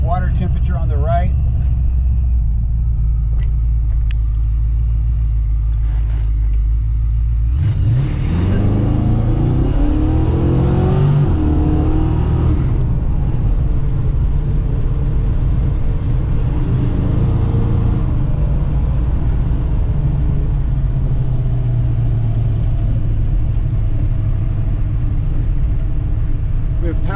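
A 1968 Ford Mustang GT350 with a fairly quiet exhaust idles with a deep, steady rumble and revs sharply partway through before settling back to idle. Someone talks over the engine.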